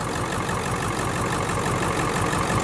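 A Ford F350 truck engine idles steadily and slightly rough with a low, uneven rumble, running continuously and fairly loud with no voices.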